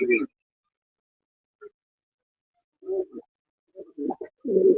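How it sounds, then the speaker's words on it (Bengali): A pair of racer pigeons gives soft, low, near cooing calls in a few short bouts, with pauses between and a louder run at the end. "হোমোজিং এর ভিতরে এক জোড়া রেসার কবুতর"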